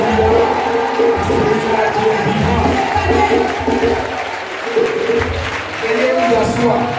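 A church congregation cheers and applauds in acclamation, a loud, dense crowd roar with clapping that carries on steadily and swells in waves, with voices shouting throughout.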